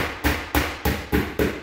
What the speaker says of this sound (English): take a hammer and a little nail